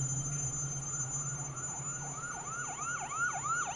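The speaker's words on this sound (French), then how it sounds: "15 minutes plus tard, les gendarmes, les pompiers et 2 ambulances arrivent sur place." Sirens from French emergency vehicles, gendarmes, fire crews and two ambulances, grow louder as they arrive at a car crash scene, their wailing tones sweeping up and down repeatedly over a steady engine rumble, with no talking.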